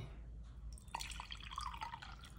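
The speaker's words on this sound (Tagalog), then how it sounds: "Lagyan ko siya ng tubig." Water poured onto potted plants, dripping and trickling softly onto leaves and soil in a quiet, faint series of splashes and drops.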